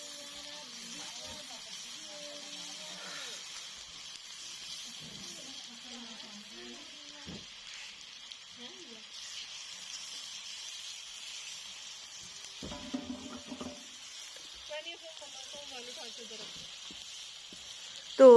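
A large onion, finely chopped, fries in a pan for Kashmiri dum aloo, giving a steady, moderate sizzle and hiss throughout, with a voice talking intermittently over it.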